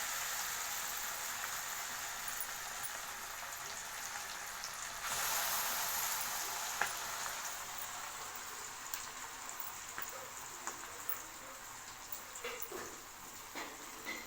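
Fish fries in groundnut oil with a steady, soft bubbling and sizzling hiss that swells briefly partway through, heard close in a home kitchen with faint clinks and no talking.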